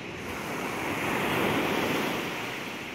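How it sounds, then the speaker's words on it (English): Ocean waves wash onto the shore in a broad, steady roar of surf that swells and slowly recedes, close and fairly loud, with wind noise and no voices. "visualizing the salt water waves just washing over you"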